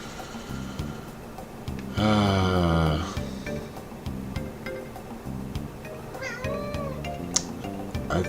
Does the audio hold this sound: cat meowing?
yes